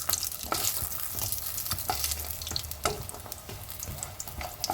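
Lentil dumplings (bori) fry in a pan with a close, continuous crackling sizzle and repeated stirring scrapes, loud and busy with no talking.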